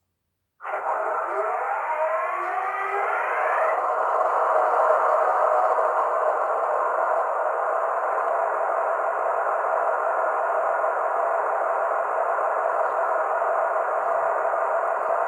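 A steady, droning electronic engine note from a small mega bass speaker in a model HST train starts abruptly and holds for about fifteen seconds, with a rising whine at the start.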